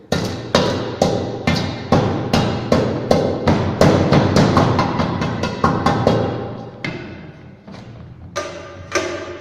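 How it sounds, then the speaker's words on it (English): A hammer pounds a soil sample to break up clay lumps during a Standard Proctor compaction test: a steady series of about twenty sharp, close thuds at a brisk, even pace, a couple of softer scraping knocks at the end. "Again it will be re-grinded with the help of this hammer, so that if any clay lumps will be present, then they will be broken down"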